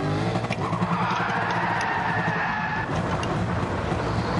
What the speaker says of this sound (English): You drifting all over the place or what?